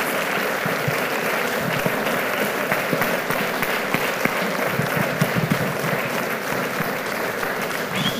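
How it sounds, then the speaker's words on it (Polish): Warm audience applause following a song at a spring-day concert evening, steady dense clapping from a full room sustained throughout, moderately loud with no voices over it. "Gorące brawa."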